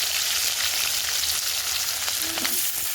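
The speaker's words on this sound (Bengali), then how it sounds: "সেই তেলের মধ্যে দেবো কুচিয়ে রাখা পেঁয়াজ।" Chopped onions, cut fairly large, dropped into hot oil left from frying potatoes, giving a steady, loud crackling sizzle throughout.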